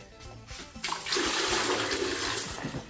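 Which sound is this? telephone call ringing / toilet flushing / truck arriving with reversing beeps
toilet flushing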